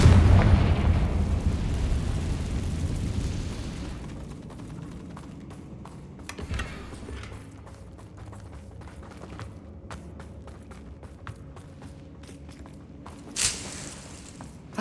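A Confringo fire curse explodes in the video game Hogwarts Legacy with a loud, close burst that trails into rumbling debris, followed by quieter footsteps and small thuds.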